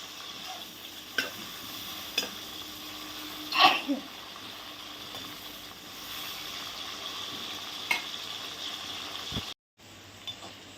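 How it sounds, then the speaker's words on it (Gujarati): Guar beans frying in hot oil in a pan, a soft steady sizzle with a brief louder stirring scrape near the middle, faint and close, ending in a short drop-out before the sizzle resumes. "તો ગવાર પણ એકદમ ફ્રાય થઈ ગયો છે."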